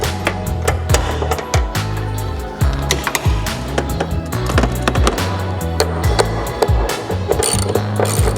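A ratchet clicks rapidly and repeatedly up close, tightening a 13 millimeter locking nut on a hood strut stud on a 2004-08 Subaru Forester XT, with steady rhythmic pawl ticks and no talking.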